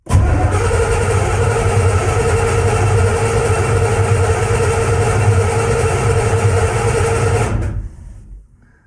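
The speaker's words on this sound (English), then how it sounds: "If we crank this thing over, it's probably going to take a minute, but we should get a decent amount of oil pressure." A cammed squarebody truck engine is cranked over in a loud, steady, droning run lasting about seven seconds up close, then cuts off abruptly into quiet.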